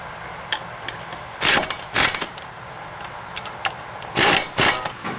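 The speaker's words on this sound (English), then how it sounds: "use a 15mm to tighten down the brake caliper" A 15mm socket wrench tightening the brake caliper bolt on an S550 Mustang, heard as bursts of quick ratcheting clicks separated by pauses, close up against a quiet garage background.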